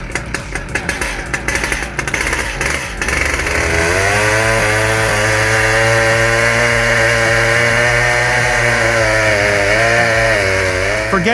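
A Stihl MS 881 chainsaw with a long 1.7 m bar revs in bursts, then bites into a tree with a loud, steady, close grinding drone that holds with slight pitch dips as it cuts.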